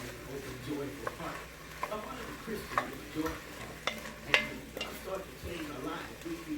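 Minced garlic sizzles in a cooking pot as a spoon stirs it, soft scraping taps repeating at an uneven pace over a quiet frying hiss.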